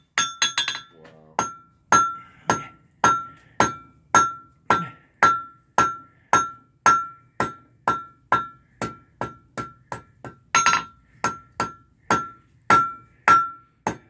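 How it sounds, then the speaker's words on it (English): A blacksmith's hammer pounds steel in steady, rhythmic blows, each strike sharp and clanging with a short ringing decay, repeated dozens of times at close range. "Are you just pounding steel on this one to show us?"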